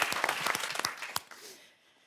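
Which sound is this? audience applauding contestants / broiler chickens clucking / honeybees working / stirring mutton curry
audience applauding contestants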